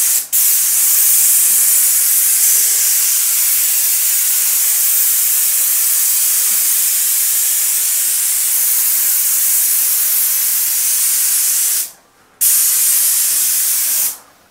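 A hand sprayer mists water steadily onto a popcorn ceiling in a room, giving a continuous close, loud hiss that runs almost the whole time, with one brief pause near the end before spraying resumes.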